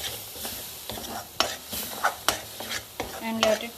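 Tomato puree frying over a low flame, stirred with a utensil that knocks and scrapes the pan in irregular sharp clicks over a soft sizzle, close and alone without talk.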